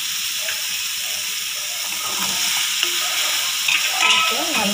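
Steady frying sizzle of vegetables with chili powder and adalakkai (bitter gourd) in a hot pan, with occasional stirring scrapes and soft clinks, close and continuous with no talking.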